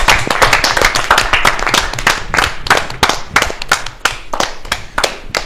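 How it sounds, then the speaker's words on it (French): Audience clapping to welcome performer Shizzy onto the stage at a Samedi Bonheur television show, a steady burst of hand claps with sharp individual slaps standing out, loud and close throughout. "on applaudit pour accueillir Shizzy sur scène pour Hello"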